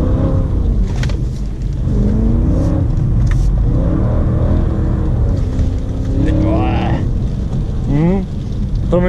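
A 2009 BMW M3 E90 engine revs and pulls hard around the wet Sosnova circuit, heard loud from inside the cabin with rising and falling sweeps, while a person talks over it.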